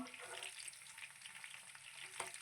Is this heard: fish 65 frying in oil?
yes